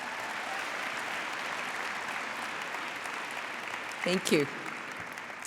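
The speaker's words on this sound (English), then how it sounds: "I'd like us all to give them a big round of applause" Sustained audience applause at a We For She 2019 welcome event, a steady dense wash of clapping that runs throughout, with a brief spoken thanks near the end.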